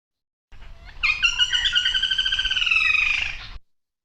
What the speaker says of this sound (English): the right answer in this case is number 4, a woodpecker's long trill